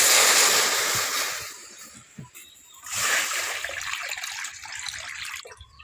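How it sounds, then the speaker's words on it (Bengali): Water pours into a wok on the stove for cooking jute leaves, first as a loud rushing splash that dies away, then as a second softer pour and splatter. "এখন কড়াতে খানিকটা জল দিয়ে দেবো পাট শাকটা বানানোর জন্য"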